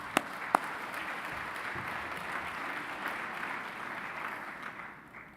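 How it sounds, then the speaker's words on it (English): Audience applause fills a conference hall of the 2013 IB Conference of the Americas, a steady wash of clapping from a large crowd that holds even throughout and tapers slightly at the end, with a couple of sharp nearby claps near the start. "So I think that's worth some applause."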